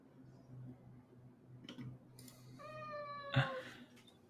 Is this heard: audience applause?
no